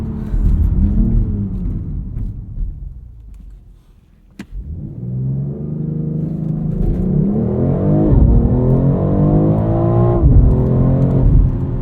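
A 2022 BMW X3 M Competition engine pulls hard uphill, its loud growl rising in pitch, dropping briefly at a gear change, then climbing again with strong, continuous revving.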